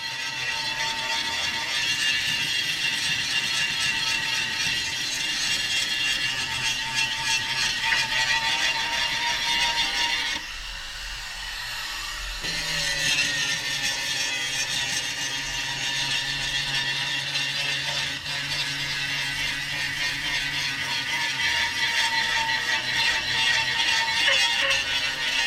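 A power grinder works steadily at cracked fiberglass on an RV, a continuous harsh whine with a brief dip in the middle before resuming at full, loud and close throughout.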